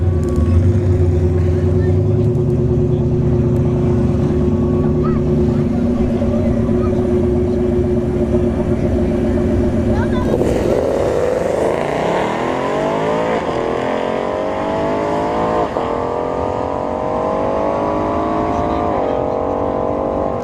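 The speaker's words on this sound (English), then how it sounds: "And the S550 goes 857 at 68 miles an hour." A Ford Mustang S550 roars down the strip on a street drag racing run, its loud engine note climbing steadily through the gears as it pulls away, with a constant dragstrip din throughout.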